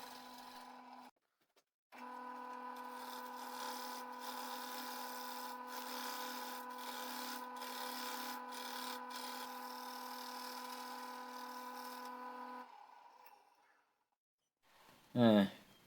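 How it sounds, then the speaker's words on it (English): Wood turning on a lathe while a tenon is formed on slightly rotten wood: a steady hum with a harmonic tone runs for about ten seconds, overlaid by scraping tool cuts, then stops, followed by a brief loud knock. "I'm forming a tenon so that I can hold the piece safely in the chuck."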